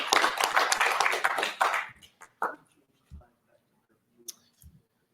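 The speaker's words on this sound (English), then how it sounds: "Let's give them a quick round of applause." A conference crowd gives sponsors a brief burst of applause, dense clapping for about two seconds that quickly thins to a few scattered claps and then quiet.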